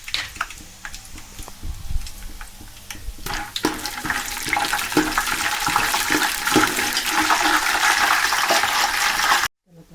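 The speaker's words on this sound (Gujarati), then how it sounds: "હવે એમાં નાના દાણા આપણે શેકી લેવાના છે." Small grains sizzle and crackle in hot oil in a pot, a steady, loud frying hiss that swells and thickens over several seconds, then cuts off abruptly near the end.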